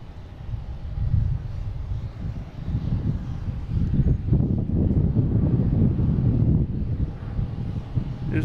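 A Delta Airbus A319 airliner departs Boston Logan for Chicago, its engines a steady, broad low roar with wind buffeting the microphone, building slightly midway and holding at moderate distance without speech.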